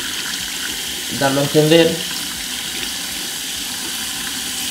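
Tap water runs steadily over a smartphone fitted with a bumper case, a continuous hiss close by, while a person speaks briefly partway through.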